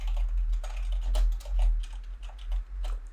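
Computer keyboard typing while entering text into a Google Sheets cell: bursts of crisp keystrokes at an uneven pace over a low background hum, with no voices.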